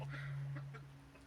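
A rooster clucks faintly nearby with a steady low tone in the background and a few brief soft calls over a quiet backdrop.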